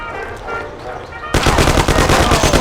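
Gunfire in the Mafia video game: a sudden loud burst of rapid machine-gun shots that keeps hammering steadily for over a second, after a quieter stretch with muffled background sound.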